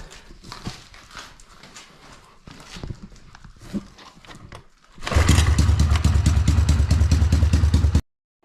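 A Honda ATC185S three-wheeler with a performance exhaust suddenly barks into a loud, close, deep engine run after scattered clattering handling sounds, holding for about three seconds before cutting off.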